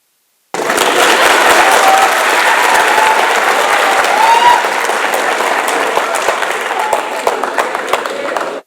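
A mushaira audience at an all-India Urdu poetry gathering breaks into loud, sustained applause that starts abruptly and holds steady, with a few sharper claps standing out near the end.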